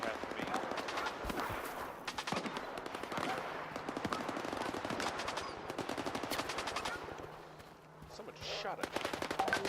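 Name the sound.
gunfire in a video game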